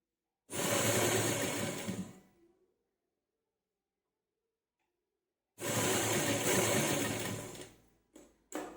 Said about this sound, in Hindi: अब हम इस पर सिलाई लगाएंगे, कच्ची सिलाई लगाएंगे इस कपड़े को फोल्ड करने के लिए